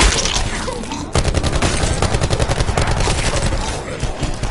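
Video game gunfire rattles in rapid automatic bursts. A sharp crack opens it, then dense, loud, close shots run for several seconds with hardly a pause.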